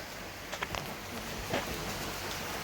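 Steady rain falls in Bali, a soft continuous wash of drops on surfaces with a few faint louder patters, heard fairly quietly from nearby.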